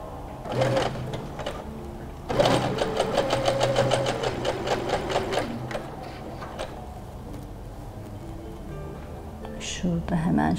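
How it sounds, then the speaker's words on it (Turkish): A sewing machine runs close by, stitching a decorative pillow in short rapid clattering bursts separated by pauses. Someone speaks quietly over parts of it. "dikiş yapmak istiyorum. Evet, yine sağlam dikiş."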